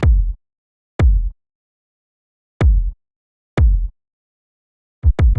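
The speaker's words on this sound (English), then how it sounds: "this is just a very basic kick drum that you heard at the end of the demo" Deep, punchy kick drum hits, five in all, spaced irregularly with silence between them, the last two close together; dry and isolated.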